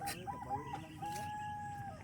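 A rooster crows with a long, drawn-out call, with a few clucks before it and faint background noise.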